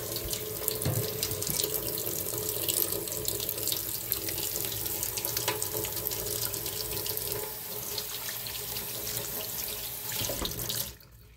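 Tap water runs steadily into a sink while hands are washed, a close, continuous splashing flow for about eleven seconds that is cut off abruptly at the end.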